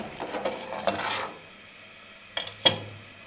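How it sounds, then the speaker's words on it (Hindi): Hot milk with green cardamom stirred in a pot for gajraila, heard as a few soft scrapes and metallic clinks of a spoon against the pot, with quiet stretches between. "अब इसको हम अच्छे से मिक्स कर लेंगे।"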